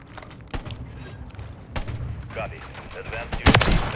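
FJX Imperium sniper rifle shots in the video game Modern Warfare 3, with a few sharp cracks and a loud final blast over game ambience and scattered player voices.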